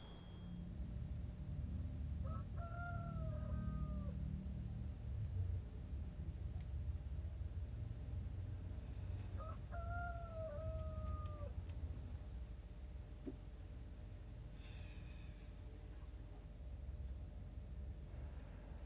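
A rooster crows twice in a rural Indonesian setting, each call a distinct drawn-out crow, the second about seven seconds after the first, set against a steady low background rumble with no talking.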